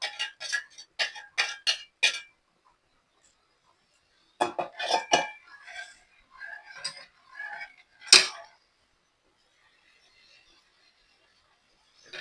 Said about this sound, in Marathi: आता हे दूध आपल्याला ह्या पॅन मध्ये ओतायचं आहे याच्यामध्ये साखर मिक्स करून घ्यायची आहे